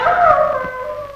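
A dog howls in a long, wavering drawn-out tone that slowly falls in pitch, heard alone and fairly close, with no talk over it.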